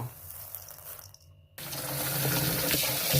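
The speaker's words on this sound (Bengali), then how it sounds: "এখন আমি এটাকে ভালো করে ধুয়ে নেব" Mixed rice and lentils are washed under a running tap for khichuri. A brief hush gives way to a loud, steady gush of water that continues to the end.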